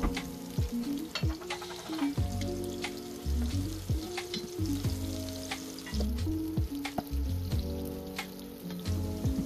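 Onion and ginger sautéing in a pan for chicken tinola: a bright, crackling sizzle, close by, with frequent clanking spatula strokes and stirring knocks in an irregular rhythm, without any speech.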